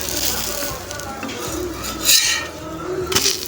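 Metal spatula scraping and clinking on a hot pan as a multigrain adai dosa is loosened and flipped, with faint sizzling beneath and two sharper clinks near the end, close by.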